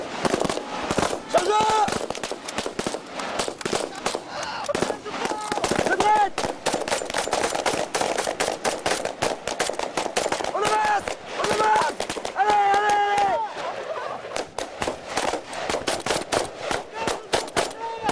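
Live-fire gunfire during French commando training, dense rapid bursts of automatic and single shots cracking close and loud throughout, with shouted voices between volleys.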